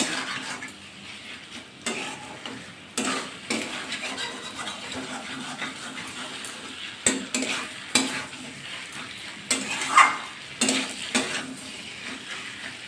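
Spice paste sautéing over a raised gas flame for a Bengali prawn and pointed gourd curry, with a continuous sizzle under intermittent stirring scrapes and spatula knocks on the pan, close by.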